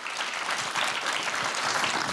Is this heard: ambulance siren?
no